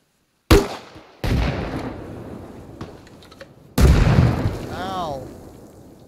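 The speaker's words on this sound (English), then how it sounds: "Fire grenade launchers." Grenade launcher blasts in the Arma Reforger military shooter, three sharp, loud explosions spaced a few seconds apart, each with a rumbling tail, followed by a whistling whine near the end.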